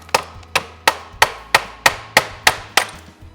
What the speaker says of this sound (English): you should be able to just tap with a mallet